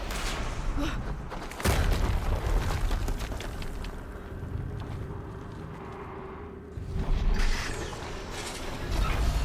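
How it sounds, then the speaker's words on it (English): Explosions in the video game Horizon Zero Dawn Remastered: sudden low booming bursts hit sharply, with one loud blast followed by later ones, over rumbling game noise and mechanical clanks. "Another explosion."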